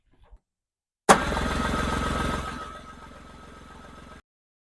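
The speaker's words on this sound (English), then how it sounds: "We'll go ahead and crank the engine." A Yamaha Pro 50 two-stroke outboard boat engine is cranked, starting with a sharp jolt and then a loud, steady buzzing churn close by for about three seconds. It eases slightly before cutting off abruptly, after a faint tick or two beforehand.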